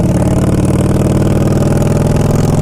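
A 2011 Harley-Davidson Fat Boy Low motorcycle engine runs close and loud with a steady, lumpy idle pulse and no voices over it.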